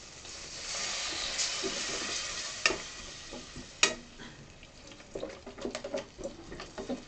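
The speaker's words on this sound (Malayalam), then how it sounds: "ഇനി നമുക്ക് ഈ മസാലയിലേക്ക് ഒരിത്തിരി വെള്ളം ആഡ് ചെയ്യാം." A loud hiss erupts as water hits hot masala in a pan, settling into a steady sizzle, then scraping and stirring sounds take over.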